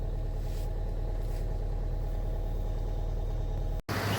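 A car engine idles low and steady after a slow, reluctant cold start on a snowy morning in Chhitkul, a continuous close rumble with no talk that cuts out briefly near the end.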